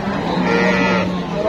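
A cow lows close by at a busy rural cattle market in Mymensingh, Bangladesh, a sustained deep moo with crowd murmur and voices around it.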